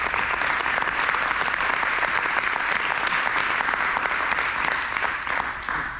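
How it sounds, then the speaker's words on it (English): An audience at a collegiate baseball ceremony applauds the coaches with dense, sustained clapping from many hands that holds steady for about six seconds, then begins to thin out. "If you can give them a round of applause,"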